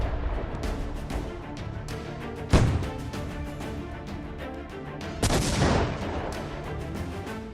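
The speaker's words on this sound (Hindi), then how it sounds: "तेल अवीव के आसमान में ईरानी क्लस्टर बम से भारी मिसाइलें कैसे कोहराम मचा रही हैं।" Iranian cluster bomb missiles exploding over Tel Aviv, with two heavy booms a few seconds apart over a constant rumbling background, loud and distant in character, and no talking.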